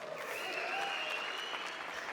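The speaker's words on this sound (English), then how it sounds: "let's give ourselves a major round of applause" An audience at a trainers' meeting applauds itself, a soft, steady wash of clapping heard from a distance and at low level.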